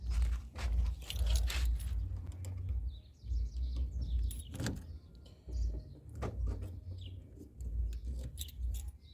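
Keys jangle and a VW Polo Vivo's door locks are worked, with sharp clicks and clunks of the lock mechanism over a low steady background rumble, several distinct actuations spread across the moment.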